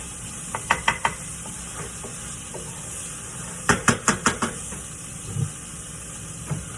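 A spoon stirring stuffed pepper filling in a bowl, with two quick bursts of rhythmic scraping knocks, a few taps each, close and fairly loud over a faint hissing background, with no talk.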